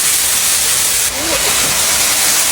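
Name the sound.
soy sauce poured into hot wok, sizzling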